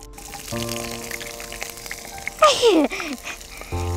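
Sliced onions and green chilies dropped into hot oil in a pan, a sudden burst of sizzling and splattering over steady background frying, with someone talking and laughing around it.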